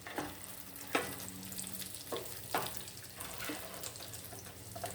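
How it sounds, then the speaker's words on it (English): Beef burgers frying in a pan, a quiet steady sizzle broken by several sharp clinks and scrapes of a spatula, close up and with no talking. "we're gonna flip our burgers now"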